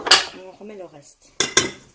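Homemade bagel dough is mixed in a bowl, giving a few sharp utensil clinks and scrapes against the bowl, separated by short pauses, close and crisp.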